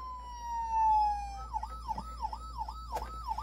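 A Playmobil 71233 toy fire truck sounds its electronic siren in mode B, a tinny tone that first slides downward steadily, then switches to a rapid repeating wail, loud and close with small clicks.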